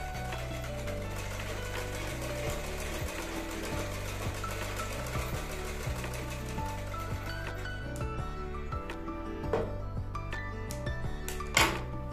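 A sewing machine stitches a blouse seam in a series of short, uneven running bursts with small mechanical clicks, close by.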